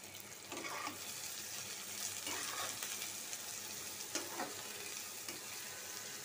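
Onions frying in a pan for khichuri crackle in a steady, dense sizzle, with a few brief stirring scrapes rising above it; no voices.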